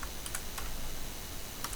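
Computer keyboard typing while writing code for a SQLite data grid program, a few scattered soft key clicks spread over a couple of seconds, quiet and close.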